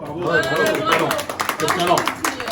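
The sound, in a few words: audience applause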